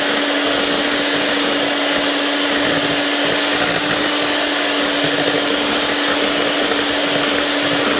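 A loud, steady electric mixer hum beats cream cheese for a pumpkin pie, running continuously at high speed throughout with no talking.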